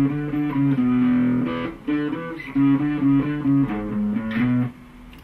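Guitar playing the bridge riff of a song, a short repeating pattern of plucked notes and chord stabs with lightly driven tone, moderately loud with brief gaps between phrases.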